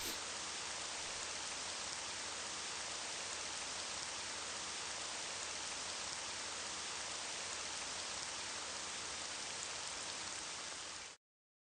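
Steady rain in the video game Vampires Dawn, a constant even hiss of rainfall with no variation until it cuts off abruptly at the end.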